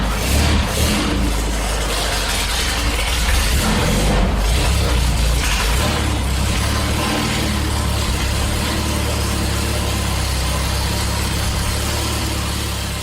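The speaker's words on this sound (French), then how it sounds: "Ce que vous venez d'entendre, c'est le moteur de la première voiture de course de Gilles Villeneuve." Engine of Gilles Villeneuve's first race car running steadily close by, a loud continuous rumble with deep low-end vibration holding at a constant level, with no talk.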